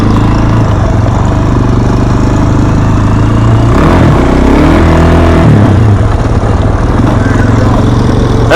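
A minibike engine revs hard during second gear wheelies, a loud, continuous buzzing roar that rises and dips in pitch as the throttle changes, nearby and without talking.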